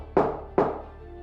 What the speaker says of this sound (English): That footfall sounds like it's right outside the giant door.